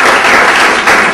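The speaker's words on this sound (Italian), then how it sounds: "Un bel applauso alla dottoressa Fiori" A loud, close burst of audience applause at an agri-food gathering in Florence, a thick, continuous roar of many clapping hands with no pauses.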